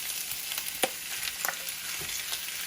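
Shelled, deveined shrimp frying in a pan of butter and olive oil: a steady close sizzle with scattered small pops and faint stirring, no voices.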